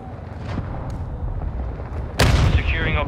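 Cruise missile strike in Call of Duty Modern Warfare 2 Ground War: a sudden loud explosive blast lands near the end after a steady battle din, with a rumbling tail and distant gunfire around it.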